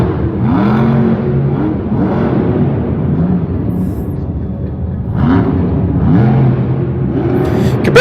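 A monster truck at Monster Jam in Lyon, France roars and revs in a loud, sustained stretch with rising and falling pitch sweeps as it spins donuts, surging again near the end with crowd noise mixed in.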